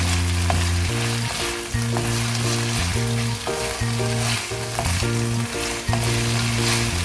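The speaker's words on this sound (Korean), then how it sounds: "대파를 넣고 한 번 더 이렇게 살짝 볶도록 하겠습니다" Potato strips in red seasoning stir-fried with green onion in a pan give a steady, close sizzle, partly under background music with stepped tones.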